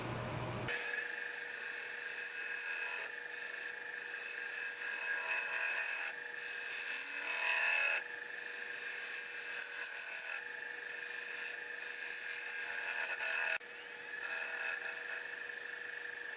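A wood turning tool scrapes against a spinning Bradford pear bowl on a lathe, a steady raspy hiss broken by short pauses as the tool lifts and bites in again, close and fairly quiet.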